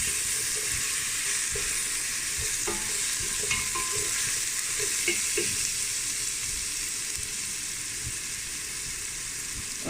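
Ingredients for Thai tom yum fish soup stirred and sautéed in a pan, a steady close sizzle broken by scraping and clinking of a spatula, continuous with no talk.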